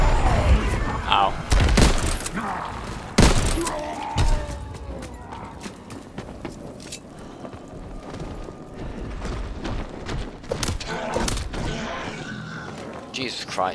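Austen SMG firing on automatic in a WWII video game, sharp bursts standing out in the first few seconds over a busy battle mix of shots and clatter, with a voice talking over it.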